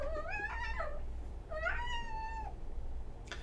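A cat meows twice, two drawn-out close meows, clear and alone over a low background hum.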